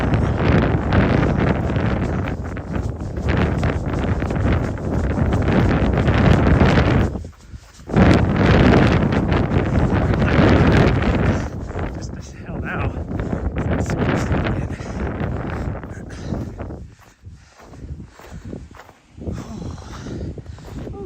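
Cold wind sweeps across a mountain trail in Montana during a trail run, roaring and buffeting loudly against the microphone in long gusts, with footsteps faintly underneath.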